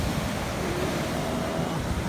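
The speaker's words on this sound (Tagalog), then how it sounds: "lalaki pa ng alon" Big waves roar continuously, a loud, steady wash of surf mixed with wind.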